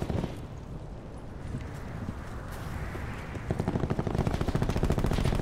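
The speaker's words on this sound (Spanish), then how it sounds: "Oigo balazos" Gunfire in Black Ops 4 multiplayer: a low, murky game soundscape gives way to a rapid, steady burst of automatic fire that grows louder and more continuous toward the end.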